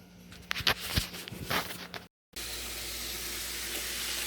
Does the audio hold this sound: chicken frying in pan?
yes